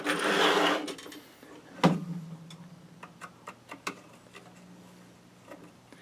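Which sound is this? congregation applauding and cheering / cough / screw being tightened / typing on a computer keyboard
screw being tightened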